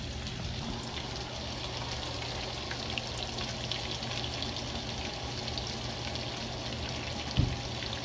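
Pieces of blue grouse meat fry in a pan with a steady, close crackling sizzle and one brief clatter near the end, no talking.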